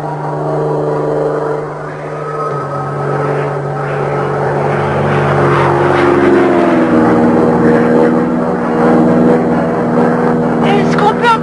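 A propeller airplane drones overhead, its steady buzzing tone rising and growing louder as it passes, heard without any talking.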